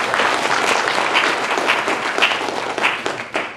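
An audience at an academic program on Black male outcomes in urban institutions applauds honorees, with a full, steady round of clapping and a few louder individual claps standing out near the end.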